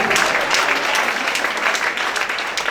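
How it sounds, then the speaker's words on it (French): A church congregation applauds during a sermon: dense, steady clapping from many hands fills the room close by, with no speech over it. "Est-ce qu'on va acclamer cette parole?"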